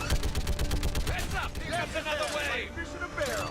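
Rapid turret gunfire from a video game rattles through a battle against husks, a quick stream of shots over game music and effects with a voice talking over it.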